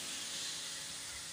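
Food fries in a pan while Kabuli pulao with mixed bird meat is cooked, a steady, close, continuous sizzling hiss with no talking.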